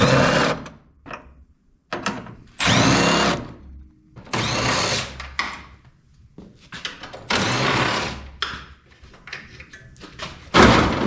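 Power tool backing screws out of a body panel on a truck in a shop, heard as repeated loud bursts of whirring and rattling separated by short pauses.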